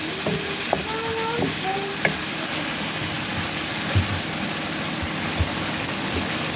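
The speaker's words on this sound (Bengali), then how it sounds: "মরিচ বাটা, হলুদ বাটা সবগুলো একসাথে দিয়ে আবারও একটু নেড়ে দিব।" Chili and turmeric paste frying in a pan while being stirred, giving a steady low sizzle with a few soft scraping taps, close and continuous, no talking.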